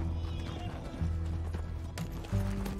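A horse whinnies over quick hoofbeats in a short sequence from the video game Red Dead Redemption 2 with background music.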